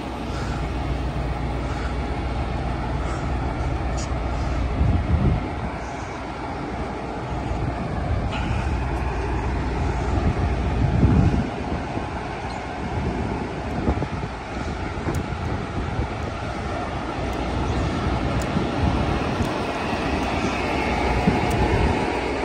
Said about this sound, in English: Amtrak Capital Corridor 2531, highball it out of here. Two SC44 Siemens chargers on in.